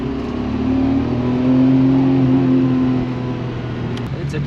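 A JDM car engine revs and holds a steady, loud mid-pitched roar without popping or breaking up, swelling slightly in the middle before easing back, with no voices.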